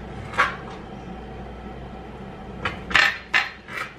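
Scissors or a knife cut long rice noodles in a home kitchen: a few short, crisp snips and clicks stand out over quiet room tone, bunched mostly toward the end.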